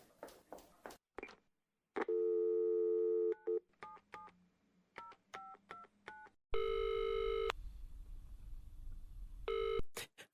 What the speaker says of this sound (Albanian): Durosa të telefonoj ambulancën.